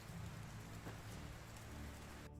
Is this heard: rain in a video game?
yes